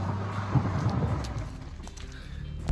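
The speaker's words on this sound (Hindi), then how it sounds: "यहाँ ओले गिर रहे हैं, तेज लग रहे हैं।" Hail falls hard around a car on a mountain road near Nainital and Mukteshwar, a dense, continuous patter and rattle with low rumbling underneath.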